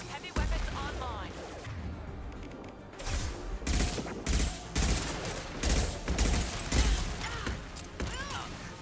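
Heavy weapon fire in Mass Effect 2: a string of loud, broadband blasts and bursts. They come in irregular clusters after a quieter opening, with mechanical clanks and a voice talking between shots.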